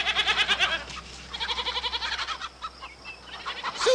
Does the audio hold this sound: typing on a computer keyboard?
no